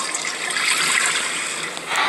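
Water rushing from a toilet flush in the horror video game Granny Chapter 3, a steady gushing, trickling wash that holds fairly loud and even for about two seconds with no talk over it.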